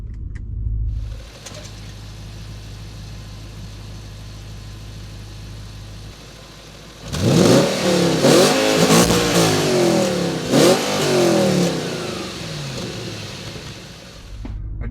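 Audi B7 RS4 V8 with a six-speed manual, heard from inside as a low idle hum gives way to a loud rising acceleration through the gears, with the engine note swelling and dropping at each shift.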